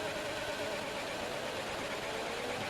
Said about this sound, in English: Hobo's engine is driving me crazy already